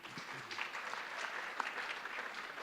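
A round of applause from a conference audience at an annual gathering, a steady dense wash of many hands clapping at moderate distance, with no talking.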